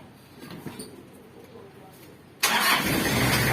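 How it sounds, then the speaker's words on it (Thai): Quiet cabin ambience, then a Toyota Hilux Mighty-X pickup engine abruptly fires up via push-start button and settles into a steady, loud running roar. "แต่ถ้าจะสตาร์ทเครื่อง"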